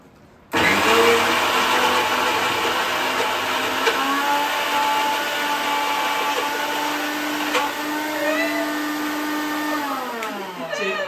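A mixer grinder starts abruptly and runs with a loud, steady whir, its pitch shifting slightly as it churns, then winding down at the end.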